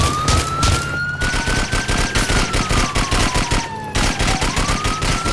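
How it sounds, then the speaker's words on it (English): Rapid gunfire in GTA IV multiplayer, dense bursts of shots over a wailing police siren that rises and falls, loud and continuous throughout. "Oh, he's shooting."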